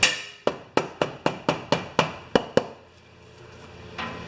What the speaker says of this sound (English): I'm just going to get a hammer